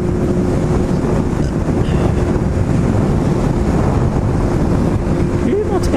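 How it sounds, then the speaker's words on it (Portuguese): Strong outdoor wind buffets the microphone on a very windy day, beside a Suzuki GSR750 motorcycle, giving a loud, steady low rumble and roar that never lets up. "Ventando muito hoje."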